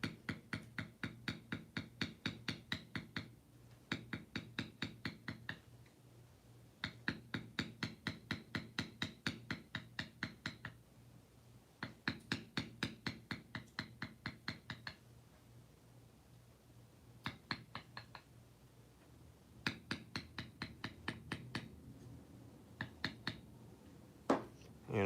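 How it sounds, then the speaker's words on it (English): A mallet strikes a beveling tool on damp leather in rapid, even bursts of sharp taps, close and crisp, with short pauses between runs of blows and no voices. "we'll just bevel a little line here"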